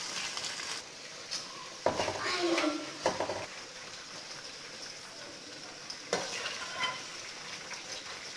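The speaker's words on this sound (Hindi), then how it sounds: "ये देखिए हमारी भिंडियाँ बिल्कुल फ्राई हो चुकी हैं।" Sliced okra fries in oil in a pan with a soft, continuous sizzle. Several clattering bursts of stirring come through, and there is no speech over it.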